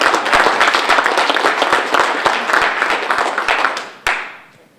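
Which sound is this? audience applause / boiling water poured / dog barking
audience applause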